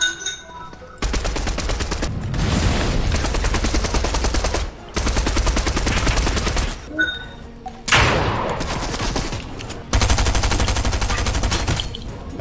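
Rapid automatic gunfire from the Fortnite video game, loud sustained bursts of several seconds each separated by brief pauses, with faint in-game sounds between volleys.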